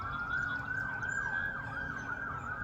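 A wailing emergency siren sweeps up and down steadily in the distance over a low rumble of traffic, with no talking.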